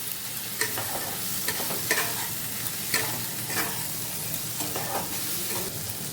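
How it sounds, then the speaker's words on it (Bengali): Mushrooms fry in masala in a pan, a steady close sizzle broken by regular scraping strokes of a spatula mixing them, with no voices. "এটাকে 1 মিনিট ভেজে নিতে হবে মশলার সাথে।"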